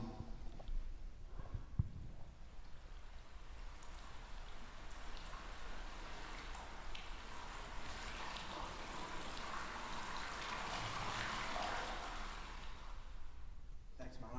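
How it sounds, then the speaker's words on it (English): River water rushing steadily from a river in Vermont, a continuous broadband wash of flowing water with no clear breaks, moderately loud throughout. "This is a sound directly from that river in Vermont."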